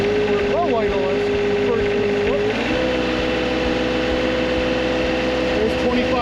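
An engine on a hydraulic oil test rig runs steadily and then shifts up to a higher, constant wide-open-throttle drone, loud and close with a dense mechanical whine throughout.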